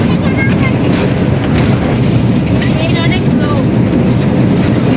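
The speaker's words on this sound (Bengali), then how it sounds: "দেখেন আমরা এখন ট্রেন দিয়ে যাচ্ছি বিশাল এক দূরে দূরের পথ" Steady, loud rumble and rattle from inside a slow-moving train, a continuous low roar with wheel and carriage noise filling the whole stretch.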